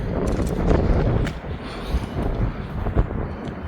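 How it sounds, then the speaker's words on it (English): Strong wind buffets a pier by the sea, a steady roaring gust that rises and falls across the clip and fills the low end with rumble. "It's just blowing right round the pier."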